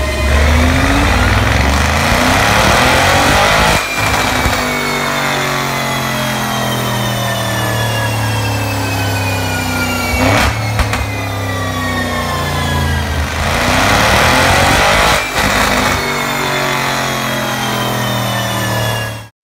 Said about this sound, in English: Audi RS7.